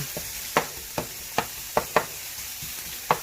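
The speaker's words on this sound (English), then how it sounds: "Over here we got the chorizo starting to sizzle." Crisp clicks and taps of a utensil breaking up chorizo in a pan at an irregular pace, over a soft background hiss of frying.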